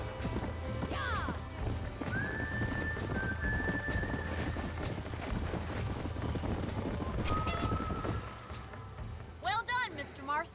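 Galloping horses in the Red Dead Redemption western video game, with a rapid clip-clop of hooves throughout, punctuated by several whinnies and neighs, including a sharp burst near the end.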